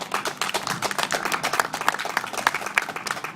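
An audience applauds at a grappling and martial arts gym demonstration, giving brisk, uneven clapping from a modest group of hands that carries on steadily for a few seconds, close and lively.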